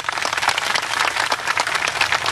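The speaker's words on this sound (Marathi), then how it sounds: "मान्य असेल तर टाळ्या वाजवा" A crowd of striking state transport workers at a protest gathering bursts into loud, sustained applause, a dense continuous wash of clapping from many hands with no pause.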